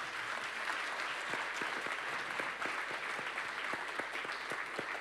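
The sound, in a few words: audience applause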